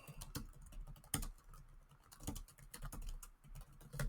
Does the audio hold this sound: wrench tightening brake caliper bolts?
no